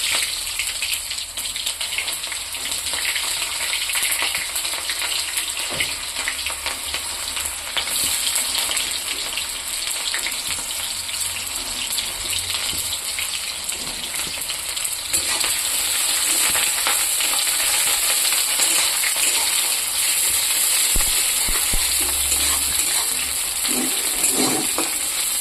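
Onions fry in hot oil with dried red chilies and nigella seeds, giving a loud, dense, continuous sizzle with occasional crackles and stirring scrapes.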